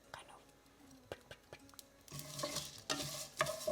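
Spices scrape and crackle faintly in a dry pan, with soft stirring taps, then a louder sizzling hiss builds over the last couple of seconds.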